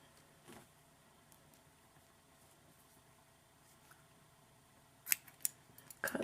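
Scissors cutting yarn during crochet work, a few faint close snips near the end against a quiet room background.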